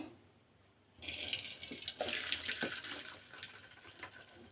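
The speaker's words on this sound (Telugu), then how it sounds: "ఇప్పుడు మనం దీన్ని వాటర్ అంతా వడకెట్టేసుకుందాము" Water pours and splashes steadily after a quiet second, a rushing stream with a few clinks, as water is strained off boiled Maggi noodles.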